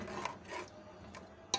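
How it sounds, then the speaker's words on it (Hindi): A spoon rubs and scrapes as meat is stirred and fried with spices in a pot for dhaba-style turnip, spinach and mutton curry, with a few soft strokes and a sharp clink at the end. "अब हम इसको अच्छी तरह से भून लेंगे मसाला डालकर।"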